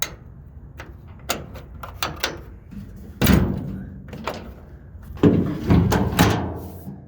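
A tailgate being fitted back onto a 1994 Ford F250 XLT 4x4 pickup, with a series of sharp metallic clunks and knocks, several louder thuds and rattles scattered through, close and alone.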